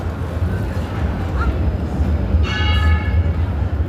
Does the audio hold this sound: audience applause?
no